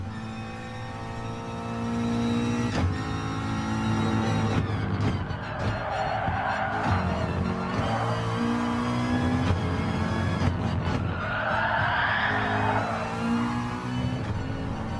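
Race cars in Gran Turismo Sport on the Red Bull Short Ring: a loud engine drones steadily throughout, with tyres screeching and skidding in two longer stretches as the car corners, and no speech.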